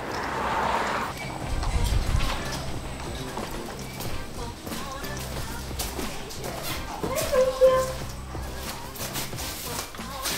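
Horses clopping their hooves on a hard surface at a stable, with steady clip-clop steps and a brief whinny, heard near and under background talk.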